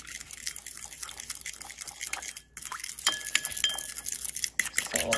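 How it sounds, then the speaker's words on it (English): Salty steak seasoning mixture being whisked in a bowl, with quick clinks and scraping of the whisk against glass, steady and close, with no talking. "Now whisk it together."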